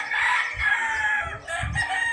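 A backyard rooster crows on a farm in Barangay Masaya, Rosario, Batangas, where breeder fowl are kept tethered. Close, loud crowing with rising calls over about two seconds, and no speech.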